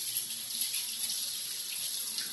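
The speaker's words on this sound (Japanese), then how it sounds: "で、ここで、シャワーのシーン" Shower running in a free video game, a steady hiss of falling water, even and continuous at moderate volume with no voices.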